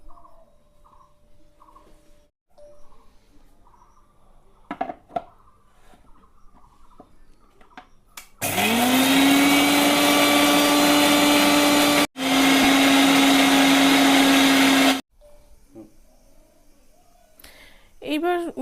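An electric blender grinds mustard seed, poppy seed, water and four green chilies into a paste, a loud steady whir running about seven seconds with a brief stop midway. Quieter kitchen handling sounds come before and after.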